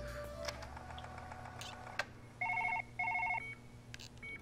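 A telephone rings in a brain surgery video game, two short electronic trilling bursts in quick succession following scattered clicks and faint background clatter.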